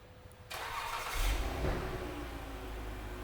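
Blue 2012 Dodge Journey R/T started by remote: a brief crank then the engine catching with a rising rev and settling into a steady close idle, with no talk.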